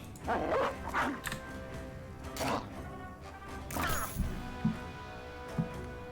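Dogs in the Battle Brothers video game bark and yip in several loud bursts amid clattering combat noise, with the calls spread irregularly across the scene.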